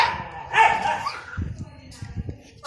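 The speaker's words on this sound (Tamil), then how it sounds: "ஐயோ நாய் வேற குலைச்சிட்டே இருக்கு." A dog barks and yips several times nearby in short bursts, with people speaking over and between the barks.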